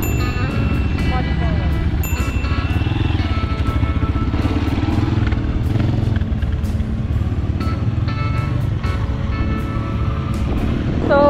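An off-road motorbike engine drones loudly and close throughout, rising and falling as the rider accelerates and slows down, with wind buffeting and some talking over it.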